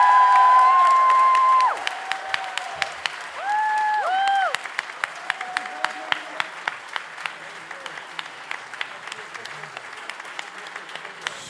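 Applause and some cheering from a concert audience for a singer rise over the tail of held musical tones, then continue as steady clapping with sharp individual claps standing out.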